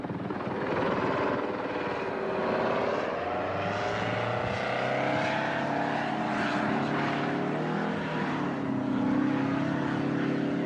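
A V-22 Osprey tiltrotor aircraft on a test flight gives off a steady, droning rotor and engine roar, with a shifting pitch and a lower tone that rises partway through, constant and moderately loud throughout.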